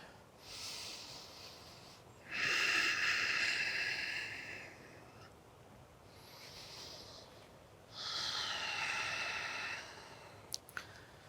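Deep breathing during a slow yoga flow, with two long, airy exhales drawn in and released close to the microphone, separated by quiet pauses and ending in a couple of faint clicks.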